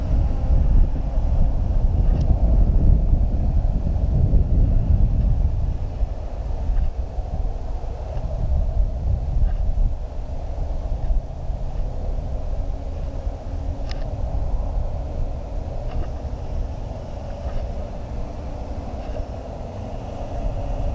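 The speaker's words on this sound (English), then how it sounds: "We've got some pretty decent wind going on and it's just really stable." Strong wind buffets the microphone of a budget 4K FPV drone flying in slow mode outdoors, a continuous low rumbling roar that surges louder early on and then holds steady, with no voices.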